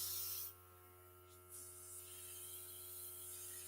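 An airbrush sprays makeup with a soft, steady hiss throughout, briefly dropping then resuming over a faint background hum.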